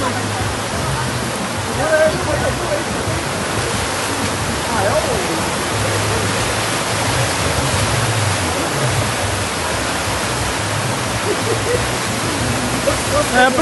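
Floodwater rushing through a street during a storm in Manhuaçu, a loud steady roar like a waterfall, with excited voices talking faintly over it.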